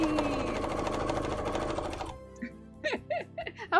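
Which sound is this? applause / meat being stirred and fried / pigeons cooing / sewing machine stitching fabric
sewing machine stitching fabric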